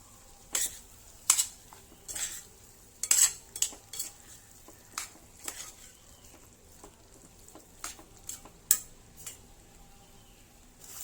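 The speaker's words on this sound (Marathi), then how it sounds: "आता आपण टाकतोय त्याच्यात हा जो कांदा ना आपण आता तळून घेतला आणि तो त्याच्यात टाकतोय." Fried onion stirred into a spicy chicken kharda in a pan, with repeated sharp scrapes and clinks of a spoon over a faint sizzle, in an irregular rhythm.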